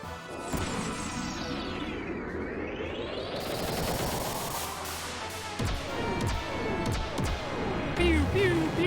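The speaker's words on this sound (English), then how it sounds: "Go, butt missiles!" Butt missiles fire in Xenogears, a sweeping salvo of whooshing launches and crashing impacts with rising and falling tones, loud and layered over game music while someone talks excitedly.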